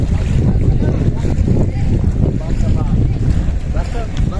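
A motor trawler boat engine drones steadily with a loud low rumble on Nikli haor wetland, mixed with wind buffeting and water noise throughout.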